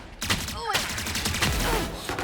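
Several quick, loud gunshots ring out in Valorant as bullets are fired through a wall, clustered close together in a short burst with brief pauses between shots.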